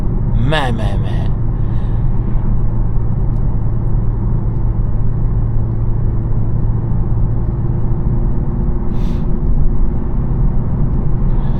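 A 2026 BMW M340i 50 Jahre Edition is driven hard at night, holding high revs, with a loud, steady engine drone filling the cabin. Someone talks over the drone throughout.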